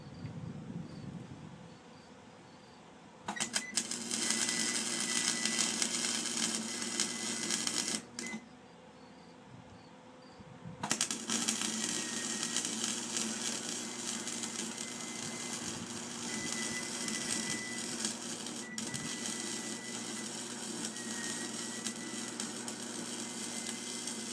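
Welding a seam on a home-made ATV trailer, a loud steady crackling buzz in long runs broken by brief pauses, close up with no voices.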